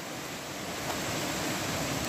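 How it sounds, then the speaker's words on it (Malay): The King Rama waterfall roars as a steady, dense rush of falling water, close and unbroken throughout, with no voices over it. "Okey, sekarang kita berada di air terjun King Rama."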